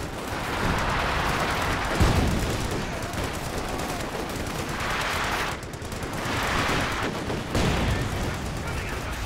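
Infantry gun bombardment and machine-gun fire rattle in a Company of Heroes 2 battle, with dense, continuous crackling gunfire and swelling blasts every couple of seconds.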